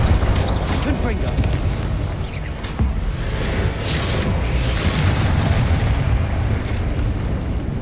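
Booming fiery blasts from the Confringo spell in Hogwarts Legacy, dense and continuous with rumbling low end, heard beneath a voice speaking over the combat.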